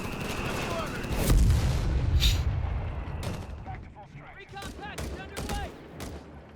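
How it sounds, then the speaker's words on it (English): Artillery shells pound a position in the World War II strategy game Company of Heroes 3, with a heavy rumbling barrage followed by scattered booms and crackling gunfire, mixed over the game's background noise and some commentary talk. "He's going to just bombard it and, you know, hope there's going to be enough."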